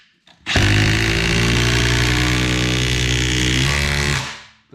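A Milwaukee impact driver fires up and runs loud and continuous for about four seconds, a harsh rattling whir with hammering impacts, then stops abruptly.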